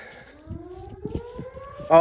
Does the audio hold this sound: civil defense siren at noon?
yes